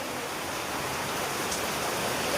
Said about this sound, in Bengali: অনেক দিন পর ঝুম বৃষ্টি, এই বৃষ্টিটার অপেক্ষায় আমরা ছিলাম